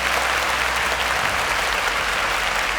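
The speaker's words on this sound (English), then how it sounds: "a round of applause for Joshua." Audience at a quiz show episode giving a round of applause, loud, dense and sustained clapping filling the whole stretch without pause.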